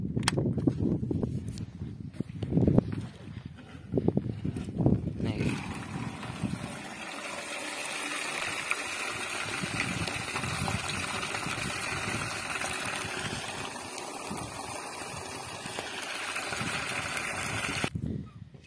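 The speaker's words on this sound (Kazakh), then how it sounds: "Бұл құдық тоқпен істейді." An electric pump on a well drawing water at a lone house, a steady mechanical hum with running water that starts after a few seconds of noisy handling and continues evenly until it cuts off near the end.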